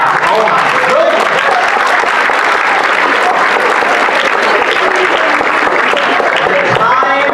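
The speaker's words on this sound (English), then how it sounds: "can we please give a round of applause for our sophomore English staff?" Sustained, loud applause from an audience at a school poetry slam, dense clapping filling the room steadily throughout with a few cheers mixed in.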